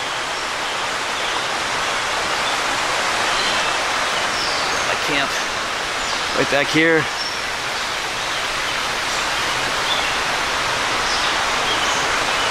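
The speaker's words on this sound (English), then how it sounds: "I just love the sound of that water." A stream rushes steadily nearby in a constant broadband wash, with someone speaking briefly midway over it, at Ravensburg State Park, Pennsylvania.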